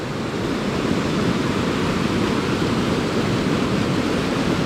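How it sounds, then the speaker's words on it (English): A small waterfall at Finch Hatton Gorge pours steadily, making a constant broadband rush of falling water that is fairly loud and close, with no voices. "A nice little waterfall."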